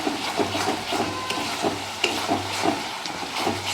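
Curry leaves sizzle and crackle steadily in mustard oil in a pan, with faint scraping and a low hum underneath, no voices.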